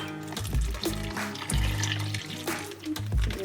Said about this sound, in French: Ensuite, je rajoute de l'eau.